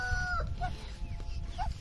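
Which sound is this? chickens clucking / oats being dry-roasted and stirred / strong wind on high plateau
chickens clucking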